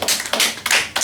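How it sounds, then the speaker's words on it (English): Students clapping in an online class, three quick bursts of light, crisp hand claps, close and fairly soft. "Claps to him."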